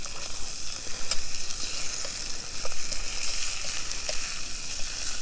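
Steakettes and pork sausages sizzle on a grill rack over coals at a riverside campsite, giving a steady, close crackling hiss with scattered small pops and no talk.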